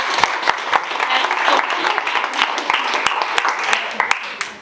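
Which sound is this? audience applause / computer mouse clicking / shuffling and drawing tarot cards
audience applause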